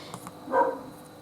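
A single short dog bark, somewhat distant, in an otherwise quiet room.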